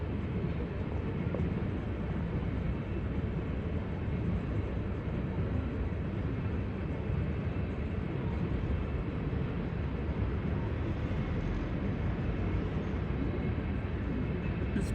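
CSX coal train passing: a loud, continuous rumble and rolling roar of wagons, steady and close for the whole stretch with no break.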